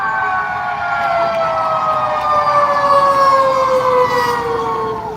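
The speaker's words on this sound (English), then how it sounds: "They're like, oh, it's a siren." A fire truck siren wails past, its steady tones sliding gradually lower as it goes by, loud and sustained throughout with no talking.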